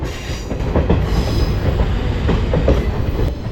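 A passenger train runs on the Kottayam–Kollam–Tenkasi line through forest, its steady loud rumble carrying faint wheel clatter and brief squeals throughout.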